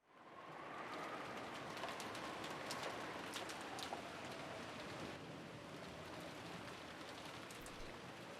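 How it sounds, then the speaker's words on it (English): Steady, even rain falls without pause in a quiet interior scene from the visual novel game Umineko no Naku Koro ni, a soft continuous hiss with no voices. "it was very quiet, filled only with the sound of the rain"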